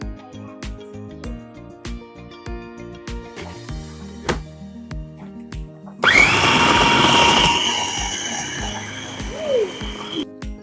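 A food processor grinds and pounds meat for meatballs with a loud, steady whirring roar that starts abruptly partway through and runs for several seconds. A rhythmic musical backing plays before it and continues underneath.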